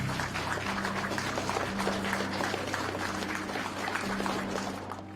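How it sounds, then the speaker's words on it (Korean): An audience at a formal Korean memorial ceremony claps at length, a busy, even patter of many hands heard from some distance over a low steady hum, with no speech. "힘차게 당겨주시면 힘찬 박수 부탁드리겠습니다."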